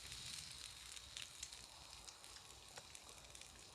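Food sizzling on a camping stove at a wild campsite, chilli-coriander-garlic naan and steaks frying: a steady, dense crackling hiss with scattered sharp pops, fairly close and continuous throughout.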